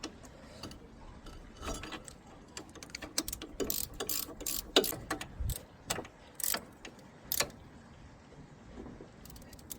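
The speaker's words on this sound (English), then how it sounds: "a 15mm ratchet spanner on this side to tighten the bolts" A 15mm ratchet spanner tightens strut bolts on a Ford Fiesta Mk7 front suspension, giving uneven bursts of sharp pawl clicks and metallic rattles at close range.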